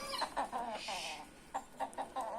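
An Indian Asil chicken and a village chicken cluck in short, nasal bursts, several spaced calls repeating close by in a farmyard with no voices.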